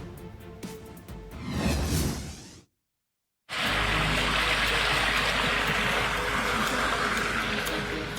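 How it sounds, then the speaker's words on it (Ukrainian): Sewage water gushes from manholes flooding a residential courtyard in Kyiv's Obolon district, a loud continuous rushing wash that breaks off for a moment and then resumes just as strong. "Фонтани з каналізаційних люків, що перетворили двір на річку."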